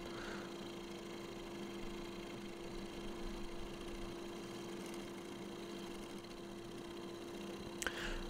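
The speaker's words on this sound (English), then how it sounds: "My lathe is great for spindle work" A wood lathe turns a Meranti bowl with a steady, faint motor hum and a constant whirring drone that holds unchanged throughout, with one brief tick near the end.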